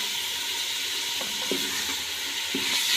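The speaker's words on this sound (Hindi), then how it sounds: "3 से 4 मिनट भूनेंगे।" Chicken being fried for desi murgh yakhni, a steady sizzle with a few light scraping stirs against the pan, close and moderately loud with no talking.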